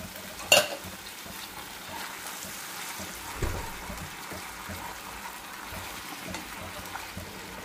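Water saved from boiling pasta is poured into soy and sweet-and-sour sauce in a pan, giving a soft sizzle and liquid stirring with a sharp clink near the start and another at about three and a half seconds.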